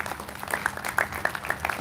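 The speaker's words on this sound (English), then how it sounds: "he deserves another round of applause" An audience at a human rights advocacy event gives a short, fairly quiet round of applause, with scattered claps running throughout and a few louder individual claps standing out.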